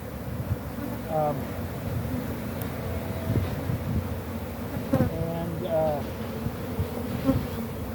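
Honey bees swarm around an opened, defensive hive, a dense steady buzz close by with individual bees whining past now and then, under faint outdoor wind.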